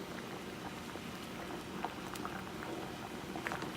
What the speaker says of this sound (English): Get the boil going again, and I'll let it boil for maybe around maybe like 5 to 7 minutes